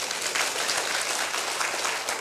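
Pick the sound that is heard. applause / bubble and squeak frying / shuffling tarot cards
applause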